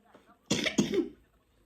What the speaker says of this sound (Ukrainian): А покашляти обов'язково було.